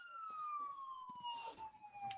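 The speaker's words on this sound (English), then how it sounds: "Sorry, there's an ambulance outside," An ambulance siren wails outside, a steady gliding tone slowly falling in pitch, distant and muffled through the walls, with faint background noise.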